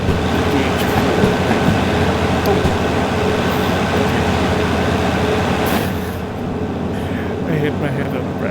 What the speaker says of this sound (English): Plus this cab, my locomotive, DH4